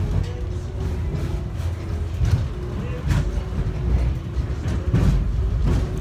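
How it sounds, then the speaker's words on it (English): Steady rumble of an airport subway train riding toward Terminal A at George Bush Intercontinental, a continuous low hum with periodic clunks and bumps, with faint voices in the car. "now we are riding the train to Terminal A"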